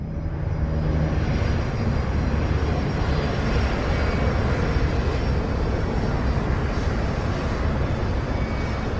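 An airliner cruising at 27,000 feet above Germany, Crossair Flight 3597, gives a loud, steady broadband engine roar that holds constant throughout.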